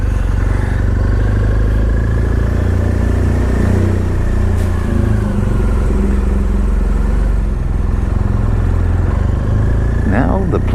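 Motorcycle engine droning steadily as the bike rides off and cruises along, loud and close with constant wind and road noise, and a voice breaks in briefly near the end.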